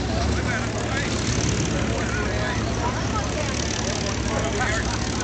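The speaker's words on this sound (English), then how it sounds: "Doing a slow flyby." An airplane makes a slow flyby at an air show at Olympia Airport, a steady engine drone holding at even loudness, with people talking over it.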